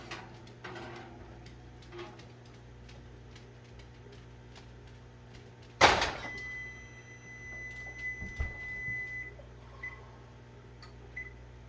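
An oven door is pulled open at once to check on a baked Mexican dish, a single loud thud and clatter standing out against quiet kitchen hum, then a steady faint whine and a few soft knocks as the dish comes out.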